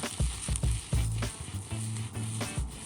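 Chicken fried rice with spring onions sizzling in a hot pan as it is tossed, with repeated clanking thumps of the pan and food over a steady frying hiss, close up and without speech.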